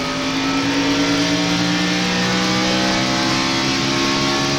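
NASCAR stock cars race on the Richmond short track during the 1996 Miller 400, producing a loud, continuous engine roar of several high-revving cars held near one sustained pitch throughout, with no speech.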